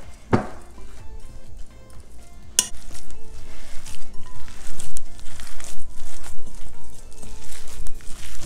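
Raw beef stuffing for cheesy stuffed peppers squished and mixed by hand in a bowl, close wet squelching and slapping in an uneven rhythm, with a sharp clink near the start.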